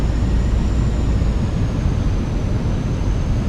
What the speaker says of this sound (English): making sure the thrust is building up.